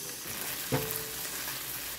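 Onion, garlic and tomato sautéing in a pan with ginger for chicken tinola, a steady close sizzle with a single brief clink of stirring partway through.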